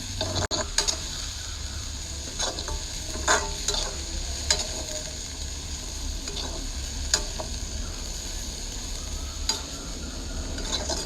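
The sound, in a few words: stir-frying kangkung in oil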